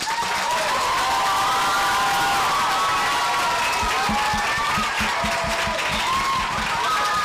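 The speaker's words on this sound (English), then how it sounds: "All right, Hillside, one last round of applause." Elementary school children in grades two to four applaud and cheer in a loud, sustained burst, with shouting voices and some thumping over steady clapping.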